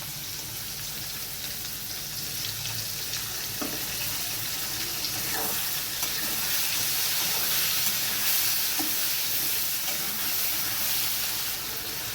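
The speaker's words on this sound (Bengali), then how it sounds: "মশলাটা দিয়ে একটু খুন্তি দিয়ে নেড়ে নিচ্ছি।" Spice paste sizzles in a pan with soaked chickpeas for an elephant foot yam curry, stirred with a metal spatula; a loud, continuous frying hiss with occasional faint scraping, no voices.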